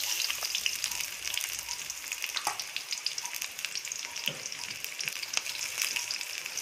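Small onions and chopped onion sizzle and crackle in about three spoons of hot oil for a crab fry, a steady close frying hiss with small pops and occasional stirring.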